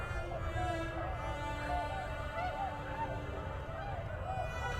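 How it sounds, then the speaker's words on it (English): A V of tundra swans calling overhead in flight, many wavering, hooting honks overlapping continuously, moderately loud and slightly distant over a steady low rumble. "a V of tundra swans halloo their arrival"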